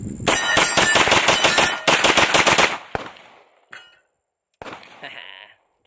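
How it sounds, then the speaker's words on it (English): Rapid automatic rifle fire from a gun fitted with a Law Tactical folding stock, loud and close outdoors at a shooting competition, a long burst of fast shots, a second short burst, then a few clanks and fading echoes. "This is the first time I'm gonna be shooting it with it on here."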